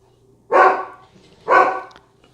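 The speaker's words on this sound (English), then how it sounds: "They're probably not going to quit barking unless I fuss at them." Two loud dog barks sound close by, about a second apart, with quiet in between.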